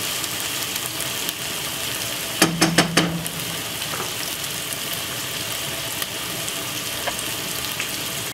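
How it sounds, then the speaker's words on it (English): Steady oily sizzle of vegetables frying in a hot pan, with a few brief sharp clatters partway through, no voices. "So as you can see, it is frying up"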